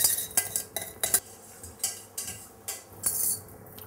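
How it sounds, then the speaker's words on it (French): A spoon works fromage blanc, milk and gelatin together in a bowl, giving a string of light, irregular clinks and scrapes against the bowl, close and fairly quiet. "Dans un saladier, on va maintenant mélanger le fromage blanc auquel je vais ajouter mon lait"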